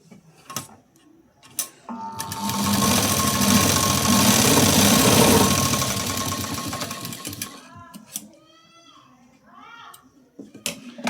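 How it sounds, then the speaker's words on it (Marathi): A sewing machine stitches tucks on a blouse in one continuous whirring run of several seconds, rising and fading, with a person talking before and after the stitching. "आणि आता इथं आपण टक्स स्टिच करून घेऊ।"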